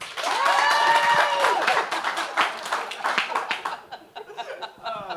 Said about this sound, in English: Clap if you think it's the Haterators.